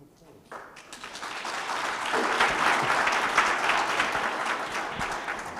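An audience at a chat event about managing money breaks into applause, the clapping swelling from faint to a full, steady round that holds near and continuous until the end.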